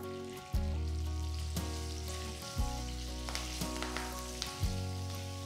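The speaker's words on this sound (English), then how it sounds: "Once the mustard seeds have splattered, turn off the stove" Mustard seeds, dals, garlic slices, red chilies and curry leaves frying in oil for a tempering: a steady sizzle with scattered crackles and pops and a few stirring knocks.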